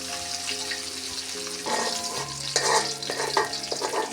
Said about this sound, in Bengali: এটা হলুদ আর লবণ দিয়ে ভাজছি।